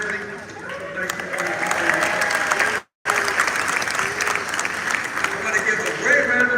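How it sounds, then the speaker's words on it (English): Sustained applause from a large audience at an LA Clippers facility dedication event in Los Angeles, briefly cutting to silence for a moment before the clapping resumes at full strength. "so let's give him a good round of applause"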